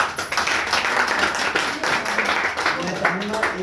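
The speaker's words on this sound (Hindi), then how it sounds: "तालियों से" Audience applause at a welcome ceremony: steady, dense clapping from a crowd that holds evenly for a few seconds, fairly loud and close.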